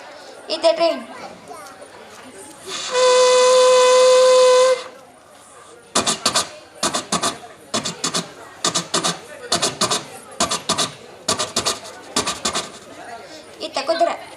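A voice imitates a train on stage at a cultural event. A long, steady whistle comes first, then a rapid rhythmic chugging in regular bursts.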